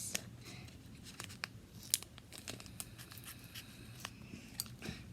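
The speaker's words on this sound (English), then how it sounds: "Now it says to cut and pour in like this. Like this. You gotta get the scissors." Scissors cutting open a plastic slime packet: sharp snips and crinkling plastic crackles, quiet and close, in scattered bursts with no talk.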